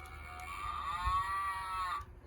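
A voice imitates a cow's long, drawn-out moo, a single steady call lasting about two seconds at close range while reading a children's picture book aloud.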